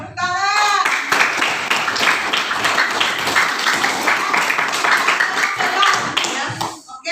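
Children clap their hands together in a classroom during an unplugged coding lesson, a dense, sustained patter of claps lasting several seconds, with voices mixed in.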